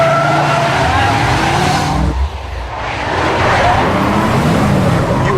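Car driving fast and skidding, a loud engine roar with tire squeal that dips briefly and then builds again, close by, with people talking over it.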